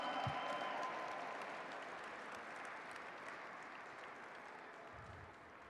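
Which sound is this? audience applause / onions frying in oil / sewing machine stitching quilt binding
audience applause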